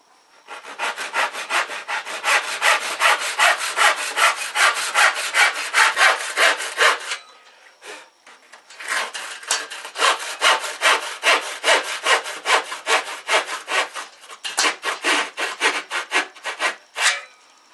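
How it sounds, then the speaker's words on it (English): An Irwin Jack floorboard saw with fine teeth cuts a wooden skirting board by hand, producing close, loud, rhythmic rasping strokes in steady runs, with a short pause partway through and a brief break near the end. "I'm going to use my Irwin Jack floorboard saw for this skirting board"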